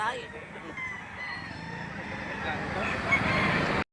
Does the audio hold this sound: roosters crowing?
yes